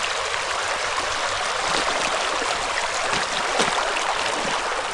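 A flowing stream along the Superior Hiking Trail rushes steadily and close by, a continuous even burble of water with no voices over it.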